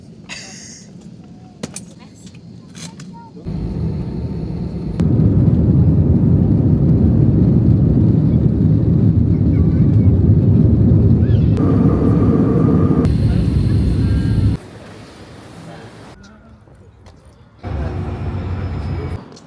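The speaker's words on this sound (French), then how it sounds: "là, on va décoller dans quelques minutes" Steady broadband roar of jet engines heard from inside an airliner cabin before takeoff, rising louder midway and holding, with quieter stretches and faint voices at the start.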